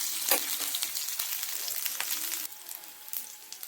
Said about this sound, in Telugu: పల్లీలు తీసిన తర్వాత పోపు దినుసులు, పచ్చిమిర్చి వేసి ఇలా ఫ్రై చేసుకోవాలి.